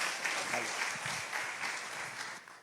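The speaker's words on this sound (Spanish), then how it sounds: "aplauso, hermano Helios" Congregation applause in a church, a soft, continuous patter of clapping heard at a distance, with some faint voices mixed in and the sound fading slightly at the end.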